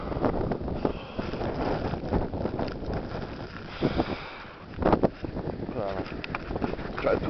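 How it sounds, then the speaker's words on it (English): Strong, sharp wind during a Chicago blizzard gusts and buffets the microphone in uneven bursts, close and fairly loud, while a person speaks over it. "Wind, strong,"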